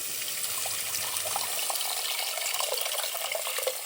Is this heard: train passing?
no